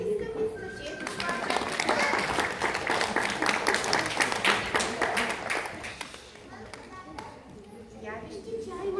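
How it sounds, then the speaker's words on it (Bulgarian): A group of children clap loudly and steadily for several seconds at a children's book presentation, the dense applause fading out near the end, with voices of children and adults mixed in. "Децата и ръкопляскаме на Лиска"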